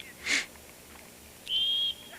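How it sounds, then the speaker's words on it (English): A referee's whistle sounds at a windy outdoor boys' varsity high school soccer match, a single clear steady blast heard from some distance, after a brief gust of noise. "you hear the whistle in the background"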